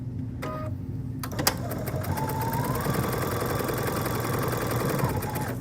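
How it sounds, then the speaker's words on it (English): A sewing machine runs steadily, stitching straight across the binding of a small quilted ornament trivet, a close, even mechanical hum and rattle after a couple of brief clicks at the start. "now I'm gonna start right on this binding and sew right straight across to make sure that it stays up"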